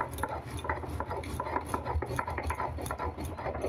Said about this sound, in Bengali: এইভাবে দেখো সুন্দর করে আমি বেটে নেব।